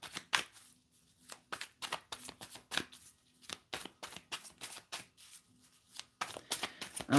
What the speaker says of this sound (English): I started shuffling there